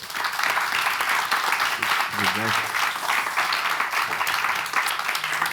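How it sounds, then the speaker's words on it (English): A conference audience applauds its speakers with sustained, dense clapping that fills the room, while a brief voice surfaces partway through. "Ladies and gentlemen, big applause for our speakers."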